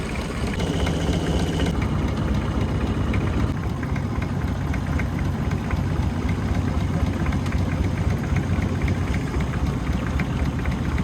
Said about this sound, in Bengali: এখন আমি বোট চালাচ্ছি।